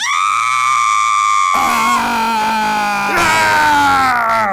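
A sustained, high-pitched scream dubbed over baseball players, with a wavering tone, loud and continuous, shifting pitch partway through as a second voice takes over.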